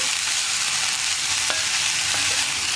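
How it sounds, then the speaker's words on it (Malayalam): Carrot and cluster bean thoran stirred in a hot pan, a dense continuous sizzle with a few light scraping strokes of the spoon over about three seconds, close and fairly loud, without talk. "ഇനി നമുക്കിതെല്ലാം ചേർത്ത് നന്നായിട്ടൊന്ന് ഇളക്കി മിക്സ് ചെയ്തെടുക്കുക"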